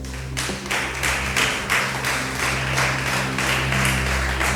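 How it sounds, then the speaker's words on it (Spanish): A church congregation claps in a steady rhythmic beat, each clap landing about every third of a second, over a sustained low musical drone from the worship setting. "Dale ese aplauso al Rey."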